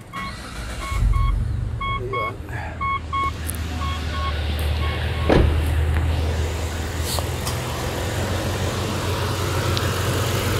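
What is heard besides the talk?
Mitsubishi Pajero 4x4 engine starting and idling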